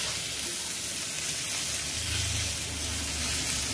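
Tomato tossed into an onion-garlic masala with turmeric and red chilli frying in a pan, giving a steady close sizzle with a soft hiss that swells slightly partway through and carries no voices.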